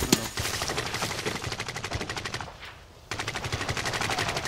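Rapid automatic gunfire from Call of Duty Warzone, loud and close, with repeated bursts of evenly spaced shots, a brief lull near the end, then continuous firing again.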